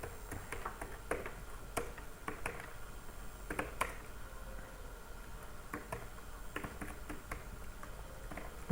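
Fingers type an SQL insert query on a computer keyboard, a quiet run of light, irregular key taps with a few sharper clicks, close and alone without speech.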